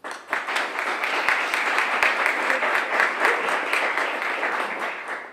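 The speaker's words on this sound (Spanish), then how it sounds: "Un aplauso." A crowd gives a sustained round of applause at a book presentation in Arroyo, many hands clapping densely and evenly from start to finish, building quickly after a brief onset.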